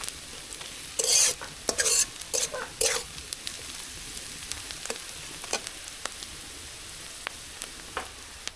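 Brinjal slices fry with turmeric in a pan, a soft continuous sizzle punctuated by bursts of louder spitting and scraping stirs early on, then sparse sharp crackles.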